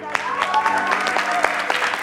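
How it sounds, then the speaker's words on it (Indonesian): A studio audience at an Indonesian talk show claps steadily and fairly loud throughout, with crowd noise and a tonal sound running under the applause. "Kita berikan tepuk tangan."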